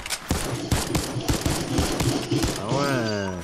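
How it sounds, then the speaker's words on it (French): Rapid infantry rifle fire in Fortnite rattles out in a fast burst of sharp, loud shots, then stops as a tonal in-game sound rises at the end. "avec l'infanterie, gros, tu sais tirer vite comme un pistolet"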